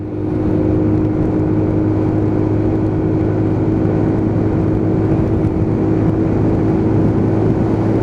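A Lexmoto Titan motorcycle cruising along a dual carriageway after repair, its engine droning at a steady, loud, continuous hum mixed with wind rush, heard from the rider's position.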